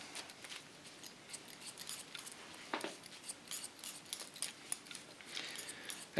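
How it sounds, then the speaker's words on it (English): Hair scissors snip in quick, crisp slicing strokes through short hair during a pixie cut, a quiet, close run of metallic clicks and swishes with no talking. "In freestyle, I just slice cut in the opposite lines."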